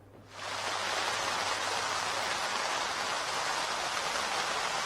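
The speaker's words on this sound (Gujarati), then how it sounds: "એક ધારો વરસાદ પડી રહ્યો છે." Steady rain pours in Ahmedabad, a dense, even hiss that swells in within the first half second and holds constant and close throughout.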